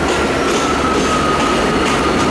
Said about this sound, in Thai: นี่ครับรถที่เข้ามาในรถสปินเตอร์นะฮะ